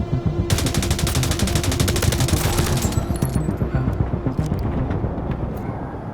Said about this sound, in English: Laying down suppressive fire.